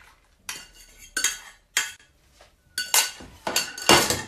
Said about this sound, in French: Et je remue